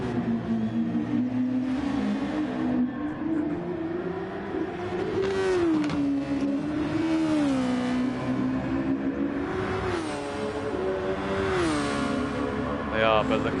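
Race cars lap a circuit in a sim racing championship, with engine tones rising and falling through gear changes and revs, loud and continuous beneath running commentary.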